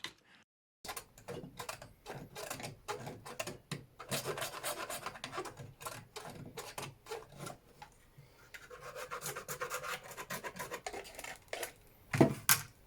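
Close-up rasping and scraping of a carving tool against the wooden body of a Squier Stratocaster guitar, cut for a pickup, in uneven strokes with short pauses and a few sharper scrapes near the end.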